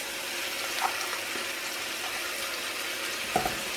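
Carrots frying in a pan seasoned with salt, pepper and herbes de Provence, a steady broadband sizzle running throughout with a couple of faint clinks.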